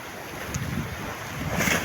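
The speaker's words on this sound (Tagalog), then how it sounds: "malakas po yung alon" Strong waves surge and wash against a breakwater nearby under gusty wind buffeting the microphone, a continuous rushing roar that swells toward the end.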